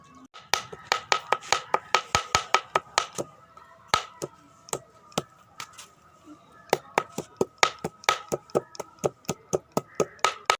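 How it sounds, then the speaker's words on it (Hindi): A knife chops chicken into mince on a cutting board in a home kitchen, with close, sharp, rapid chops in steady runs and a short pause partway through. "अब मैं चिकन का कीमा बनाता हूँ।"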